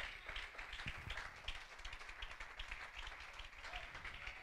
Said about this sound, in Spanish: Dale ese aplauso grande al Señor.